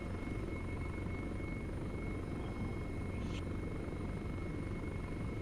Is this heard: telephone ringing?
no